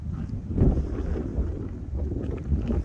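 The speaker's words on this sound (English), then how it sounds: "Really windy up here." Strong wind on top of Cavanal Hill in Poteau, Oklahoma, a loud low rumbling buffet battering the microphone in gusts, with no talking.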